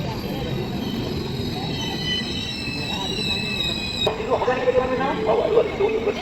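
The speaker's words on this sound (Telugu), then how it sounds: "we are departing Rajahmundry from platform number 1" A Garib Rath express train departing Rajahmundry station platform rumbles and squeals along the rails, high metallic whine over a steady low roar, with a public-address voice faintly in the background.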